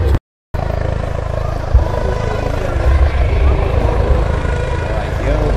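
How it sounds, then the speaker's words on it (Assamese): A helicopter comes in to land, its engine and rotor making a continuous low, droning roar close by. The drone cuts out for a moment near the start, then carries on steadily. "হেলিকপ্টাৰখন চাওক আপোনালোকে পুৰা ধুনীয়াকৈ নামি আছে"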